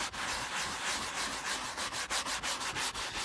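Brush lightly scrubbing a 14-year-grimy Volvo leather car interior during cleaning, close repeated bristle strokes with a quickening rhythm of short scrubs, no voices.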